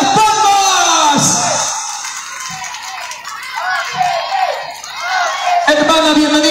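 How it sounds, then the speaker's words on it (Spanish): An audience at a political campaign presentation in Chilete, Peru, roars with whoops, yells and cheering that swell and fade, a crowd noise with a loud voice calling out over it at the start and end. "¡Fuerte las palmas!"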